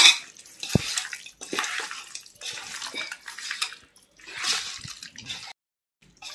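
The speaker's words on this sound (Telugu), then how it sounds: "ఇప్పుడు 1 కప్పు పెరుగు వేసుకోవాలి" Yogurt goes into a chicken biryani marinade for Hyderabadi dum biryani: wet, splattering plops and scraping against a bowl come in short bursts, close up, with brief pauses between.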